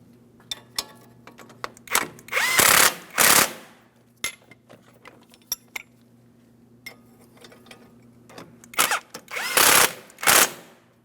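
An impact or power tool snugs and torques brake dust shield hardware on a 2003-2008 Toyota Matrix, firing in short loud rattling bursts separated by quiet pauses, close up with a faint hum beneath.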